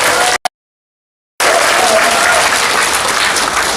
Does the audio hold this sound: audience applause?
yes